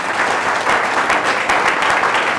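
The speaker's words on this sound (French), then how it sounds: "Je vous demande de vous applaudir très très très très fort." Steady, dense audience applause fills a room during a televised radio-TV event in Côte d'Ivoire, loud and continuous throughout with no pauses.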